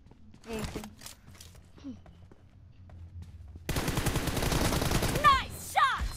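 Automatic gunfire in the video game PUBG Mobile, a dense sustained burst that fills the second half after a few quieter, scattered sounds at the start.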